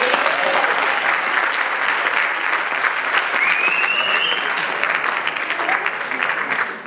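Sustained applause from a theatre audience at a comedy stand-up show, steady and dense throughout with no voices on top.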